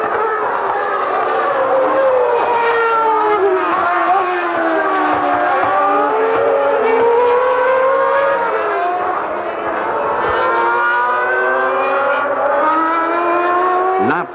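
Benetton and Williams Formula One race cars from 1994 scream past at high revs, their engines rising and falling in pitch as they pass and overlap, with the loud whine continuous throughout.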